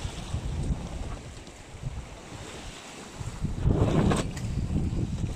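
Wind buffets and gusts across open water on a sailboat during an Atlantic crossing, with surging rushes and swells growing louder toward the end.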